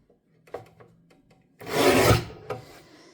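A blade slices through cardboard from a product box, a loud rasping cut of about a second, preceded by faint scrapes and handling taps and followed by a short rustle.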